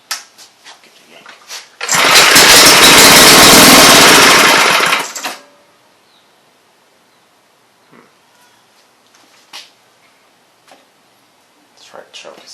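A 5 HP Briggs and Stratton small engine pull-started after a carburetor replacement roars loudly for about three seconds, then cuts out, leaving quiet with faint ticks and movement.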